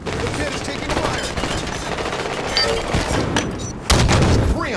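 Dense gunfire and explosions from a Halo 5 arena match, with rapid overlapping shots and bursts filling the whole stretch, loud and continuous.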